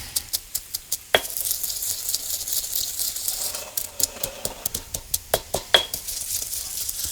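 Curry paste and shallots sizzle in a wok under a steady fry, punctuated by a run of sharp metallic clinks and scrapes from stirring, close and fairly loud.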